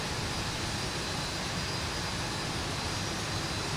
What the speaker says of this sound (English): it sounds to me like we almost have 2 good engines